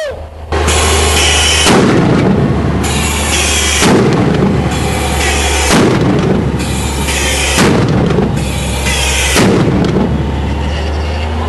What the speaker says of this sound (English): Now, I'm gonna shoot it 5 times, it's on the lower setting right now.